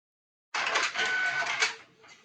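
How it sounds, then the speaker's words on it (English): An Epson inkjet printer converted for sublimation printing runs through a sheet of plain paper, a steady mechanical whir and buzz about a second and a half long, close and fairly loud, that then tapers off. "Let's get it to where you can actually see it printing."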